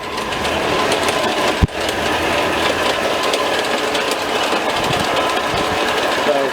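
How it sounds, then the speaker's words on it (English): A steady mechanical engine drone with rapid rhythmic clatter runs throughout, close and loud, with one sharp knock early on. "I have the engines running right now"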